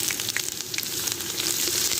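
Garlic paste fries and sizzles steadily in oil with browned onions, a continuous dense crackle near and fairly loud throughout, for a black chickpea pulao.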